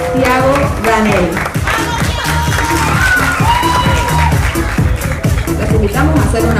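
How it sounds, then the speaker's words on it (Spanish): Audience at a cultural ambassador candidate election in Villa Ángela claps and cheers loudly and steadily, with whoops and shouts mixed in and music running underneath throughout. "Fuerte los aplausos para Sequeira Thiago Danel."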